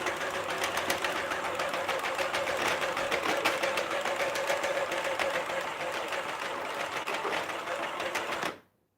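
An electric knitting machine making a beanie runs with a steady, fast mechanical clatter and whir close by for several seconds, then stops abruptly near the end.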